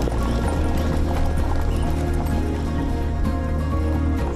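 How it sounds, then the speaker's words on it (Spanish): Horses race past at a close distance, a dense, continuous rumble of hoofbeats and low thudding that stays loud and steady throughout, with no clear breaks. "El ruido de los caballos cuando corren y pasan delante tuyo"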